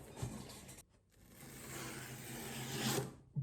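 A MacBook Pro M1 box opened by its easy-open tab: a quick tearing scrape, a brief pause, then a longer, steady ripping rasp of cardboard close to the microphone, fairly quiet overall.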